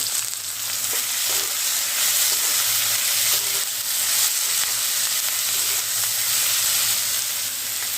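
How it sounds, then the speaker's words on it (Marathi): Onions with curry leaves sautéing in a pan, a loud, continuous close-up sizzle with occasional faint stirring knocks underneath. "हा कांदा आता छान व्यवस्थित परतून घ्यायचा"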